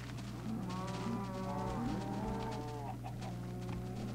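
Video-game cattle lowing, several drawn-out moos in harmonic tones overlapping with clucking chickens, against a steady low hum and faint game ambience.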